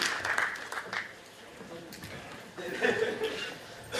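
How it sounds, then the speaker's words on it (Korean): An audience claps to welcome a lecturer to an alumni special lecture, with a burst of applause at the start, a lull and then a second swell, mixed with some light chuckling and murmuring voices. "이호욱 교수님을 뜨거운 박수로 맞아주시기 바랍니다"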